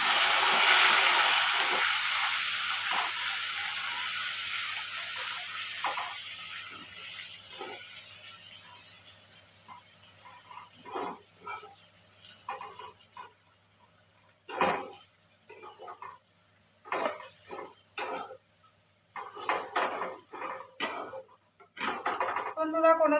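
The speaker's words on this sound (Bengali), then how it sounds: "পেঁয়াজটা এবারে দিয়ে দেবো।" Chopped onion hits hot oil already seasoned with dried red chilies and bay leaves, raising a loud steady sizzling hiss that slowly fades, with clinking utensils and stirring sounds later.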